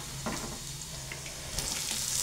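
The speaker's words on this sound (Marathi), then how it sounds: "कांदा घालून घ्यायचा, मस्त असा कांदा परतून घ्यायचा।" Onion sautéing in a pan, a soft, continuous sizzle with light stirring, rising slightly louder toward the end; quiet and close, with no talking.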